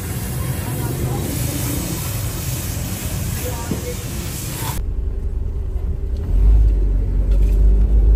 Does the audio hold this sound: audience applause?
no